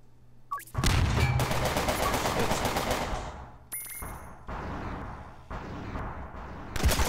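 Grenade explosions and gunfire go off in the Cortex Command video game, a dense burst of blasts and rapid firing followed by scattered separate bangs, fairly loud and close with brief quiet gaps between.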